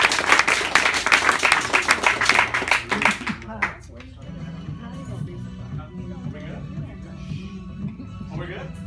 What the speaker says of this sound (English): let's have a big round of applause for the three guys